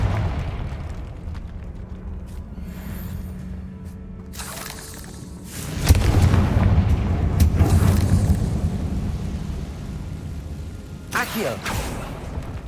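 A Confringo fire-blast spell explodes in the video game Hogwarts Legacy, landing as a loud, rumbling burst midway through that lingers and fades, with another sharp burst near the end and background game sounds around it.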